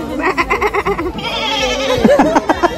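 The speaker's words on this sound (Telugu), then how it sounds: "ఇక్కడ ఉన్న మేక అప్పటి నుంచి జానుకు రెస్పాండ్ అవుతుంది" A goat at a temple entrance bleats in a string of wavering, pulsing cries, close and loud, followed by a few shorter calls.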